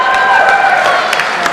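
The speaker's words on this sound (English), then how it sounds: "I don't know why y'all clapping" Audience at a film festival Q&A breaks into clapping and cheering, a dense, loud wash of applause with whoops and crowd noise filling the room throughout.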